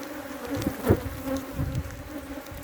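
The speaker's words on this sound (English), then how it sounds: "you know you're stressing out the bees too" Honey bees buzzing at a backyard apiary in Trinidad: a dense, steady drone of many insects close by, with individual bees swelling louder as they pass, and no voices.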